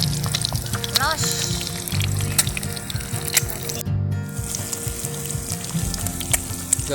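Food sizzles and fries steadily in a pan at a campsite on Kondangmerak beach in Malang during breakfast, a continuous close crackle with light clatter of stirring and a brief voice in the background.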